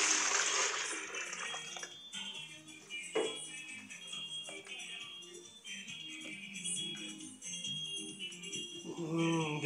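Water poured into an electric water boiler bucket, splashing and trickling with clattering knocks and bright liquid noise throughout, fairly close and moderately loud.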